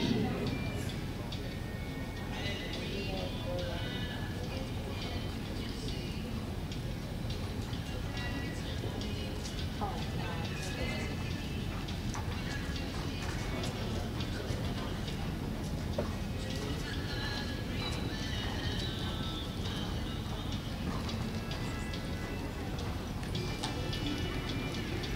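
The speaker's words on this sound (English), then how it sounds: "Canter, please. Canter your horses," Horses cantering in an indoor show arena during a novice amateur hunter hack class, a steady muffled rhythm of hoofbeats with crowd and arena noise throughout, voices speaking over it.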